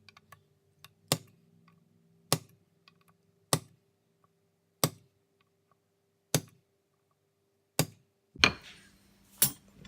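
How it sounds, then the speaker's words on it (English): A metal punch tapped with a hammer to mark string-through holes on a Telecaster-style guitar kit body: seven sharp, evenly spaced strikes about a second apart, close and crisp, with a few faint clicks between. "Going to use a punch that's roughly the same size as the string through holes and mark them all."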